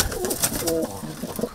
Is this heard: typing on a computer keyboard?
no